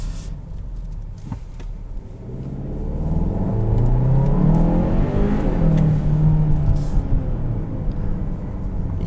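A 2021 Kia Sorento SX X-Line accelerating with a smooth, steady engine drone that swells and rises in pitch from inside the cabin, with no talking.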